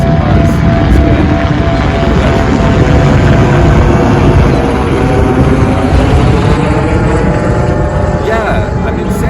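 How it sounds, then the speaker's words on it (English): A helicopter flies overhead, a loud, dense, continuous engine and rotor roar filling the whole stretch at steady strength, with speech faintly mixed underneath. "got a helicopter overhead right now"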